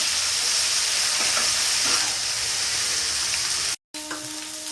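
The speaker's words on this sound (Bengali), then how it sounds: "আমি বেশ ভালো করে কষবো যতক্ষণ না তেল কড়াই থেকে ছেড়ে যায়" Spices being fried and stirred in oil in a wok for Bengali-style rohu fish kalia, a steady close sizzle and hiss throughout with a brief cut near the end.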